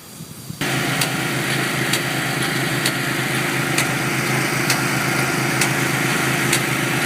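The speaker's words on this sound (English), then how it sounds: "These are essentially like power shovels, just walk behinds that peel up the roofing after you've cut it." Walk-behind power roof stripper peeling up cut commercial roofing, a loud, steady engine drone that starts abruptly and runs without pause, with regular sharp ticks from the machine cutting through.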